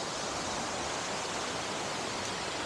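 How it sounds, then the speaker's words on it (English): A giant waterfall pouring down in an outdoor beauty spot, a dense, steady broadband rush of falling water with no breaks, close and fairly loud. "Thought we were going to see a little tiny waterfall, not this uh, giant"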